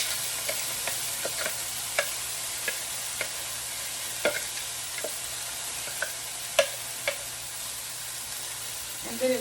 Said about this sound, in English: And then it says to let the corn just kind of saute.